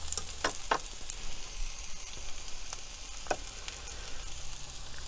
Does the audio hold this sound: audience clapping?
no